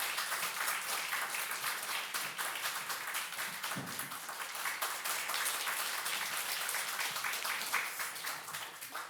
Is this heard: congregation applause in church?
yes